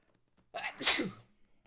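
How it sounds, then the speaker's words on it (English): A single loud, close sneeze with a sharp breathy burst, followed by quiet. "Sneezing is a crime of nature."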